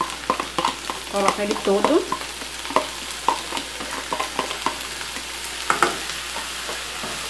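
Frozen tomato sauce goes into a hot frying pan with other ingredients, sizzling steadily while a spoon scrapes and stirs in irregular clacks, with a brief spoken line over it.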